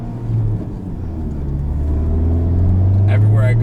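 Steady low engine drone inside a 2017 Honda Civic Type R while driving, with a rising tone near the end as it accelerates, heard continuously from the cabin without talk.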